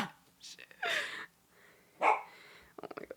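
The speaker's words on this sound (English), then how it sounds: "He's a Cavalier King Charles Spaniel." A rescue Cavalier King Charles Spaniel gives a few short barks and yips close by, with excited human voices, gasps and breathing mixed around them.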